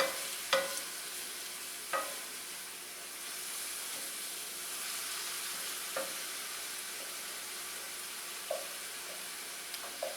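Asparagus for pasta sauce sizzles steadily in a pan as liquid cooks off, a constant hiss broken every few seconds by faint utensil taps, close by with no talking.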